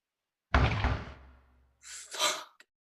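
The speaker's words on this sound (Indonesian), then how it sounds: "ternyata itu adalah suara ketukan tukang paket yang datang ke rumah Selan." A delivery courier knocks on a house door: a booming burst of knocks, then after a short pause a second quicker cluster of raps, ending with one small tap, all fairly close.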